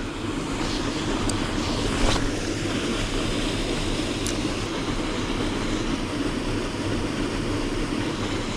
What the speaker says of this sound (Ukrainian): тут вода так жужить